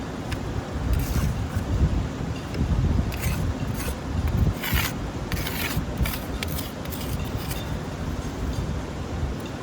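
A metal spoon scrapes and picks at clay-covered bedrock while gold prospecting, making repeated close, gritty rasps and scratches in irregular bursts against a dull, rumbling background.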